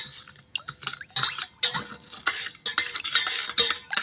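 Hibiscus flower juice being stirred with sugar and lemon, with repeated close spoon-against-vessel scrapes and clinks in uneven bursts, loud and alone.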